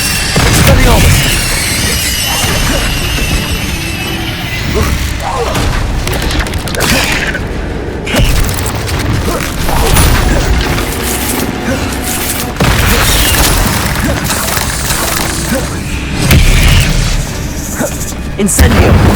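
Expelliarmus spell cast in the video game Hogwarts Legacy amid a steady mix of booming spell impacts and bursts in a combat scene, with voices speaking over the action.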